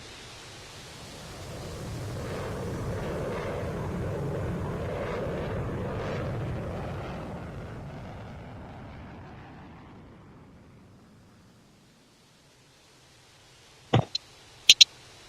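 An F-16 fighter jet in Solo Turk livery passes at an air show, a broad jet roar swelling over several seconds and fading away, followed by a few sharp clicks near the end.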